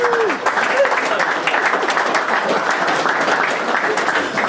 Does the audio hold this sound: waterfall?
no